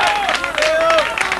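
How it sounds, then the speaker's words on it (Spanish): A concert crowd gives a brief, dense ovation of clapping and cheering for the drummer at a 1994 Buenos Aires show. A voice talks over it. "Observe la ovación que provocó."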